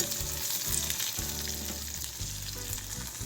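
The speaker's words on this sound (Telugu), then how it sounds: "తెల్లగా వచ్చే వరకు వేయించుకోవాలి" Ingredients for coconut chutney fry in a pan, giving a continuous dense sizzle that holds steady and close for the whole stretch, with a low hum underneath and no voices.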